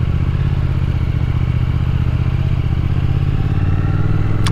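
A Triumph Thruxton RS retro cafe racer motorcycle cruising through Tokyo, its engine droning loud and steady with a low rumbling throb throughout, close to the rider, with no talk.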